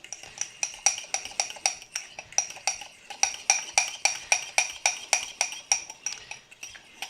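A utensil stirs egg yolk mixture for carbonara in a bowl, clinking quickly and steadily against the sides in an even, rapid rhythm throughout, close and alone.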